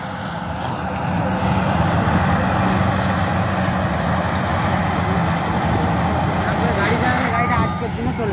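A harvester rumbles and jolts through a crop field while cutting, its reel catching and stalling, a steady loud mechanical roar with rattling knocks throughout, and a voice speaking over the engine noise.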